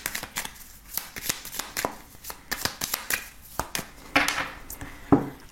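A deck of tarot cards is shuffled and cut by hand in a series of crisp riffling flicks and soft slaps at close range. The bursts come in a quick irregular rhythm, followed by a few louder taps as the deck is cut.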